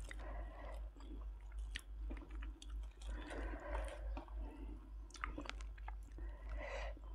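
Close, steady chewing of spicy papaya salad served with bitter gourd shoots and vegetable greens, with moist crunching bites repeating in an uneven rhythm and no talk.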